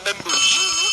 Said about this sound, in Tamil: எங்கேயோ அடிக்குது ஃபோனு.